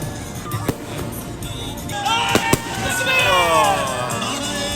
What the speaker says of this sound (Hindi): आप देख सकते हैं आतिशबाजी फुल टाइम।